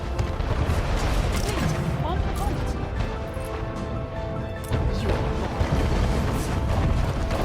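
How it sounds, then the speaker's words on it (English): Mortar artillery fire in the Anno 1800 city-building game during a naval island siege, a loud continuous barrage of booms and crashing impacts rolling on throughout. "Another mortar going in"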